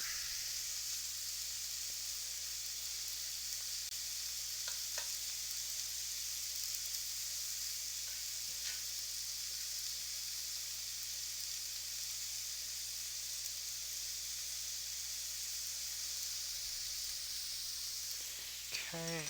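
Onions caramelizing in a pan give off a steady, quiet sizzle and hiss that holds unbroken throughout, with a few faint clicks near the end.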